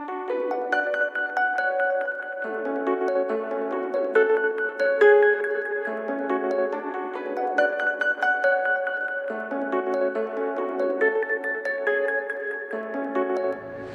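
A dark ambient melody loop with Fruity Reverb applied at a 27% mix, layered sustained tones and shifting notes ringing out continuously and evenly, with no voices.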